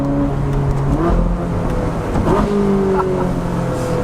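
A 2013 Ferrari 458 Spider engine roars and revs steadily at close range, its note rising and falling with a tire squeal briefly audible.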